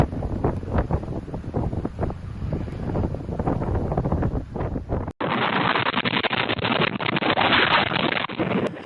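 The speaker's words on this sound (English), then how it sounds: "A powerful blizzard has buried homes and disrupted essential services in Russia's Far East over the past week" Blizzard wind in Russia's Far East roars and gusts in a loud, buffeting rush against the microphone, continuing unbroken through an abrupt cut midway.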